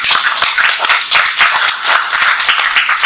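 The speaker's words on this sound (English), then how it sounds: "give yourself a round of applause" An audience at a book-writing presentation claps and applauds, a dense, steady patter of many hands that continues throughout without talk.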